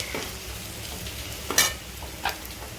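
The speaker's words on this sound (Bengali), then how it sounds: "এবার এটাকে নেড়ে ছেড়ে নেব" Spice paste of coriander, cumin and mustard for prawn chutney sizzles steadily in a pan, stirred with a few sharp scraping strokes, close and moderately loud with no talk.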